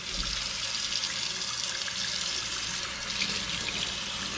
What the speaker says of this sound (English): Just gonna rinse her off really good.